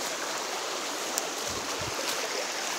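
Water flows steadily in a close, continuous rushing hiss, like a creek running over rocks, with no voices.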